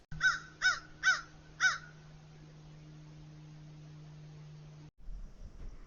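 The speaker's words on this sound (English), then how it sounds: "I feel like these crows are laughing at me" Four loud crow caws in quick succession open the scene, followed by a steady low hum and then faint rustling.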